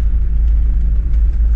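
An off-road car with 4x4 engaged rolls over bumpy, uneven terrain, giving a loud, close, continuous low engine rumble with irregular thumps from the ground.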